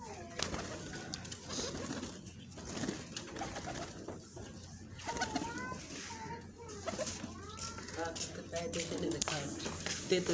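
Domestic pigeons coo repeatedly close by in a loft, soft throaty rolling calls rising and falling in irregular bursts, with someone talking intermittently over them and faint clucking in the background.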